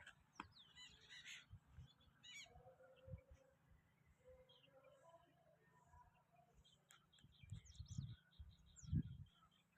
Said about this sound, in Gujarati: ચકલા બોલે ને